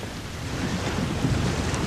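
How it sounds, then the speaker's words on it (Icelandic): Storm wind and heavy surf pounding the Dyrhólaey coast in Iceland: a continuous, dense roar of wind and breaking waves, loud and unbroken throughout. "stormurinn ryður ölduföldunum að landinu og gefur engin grið"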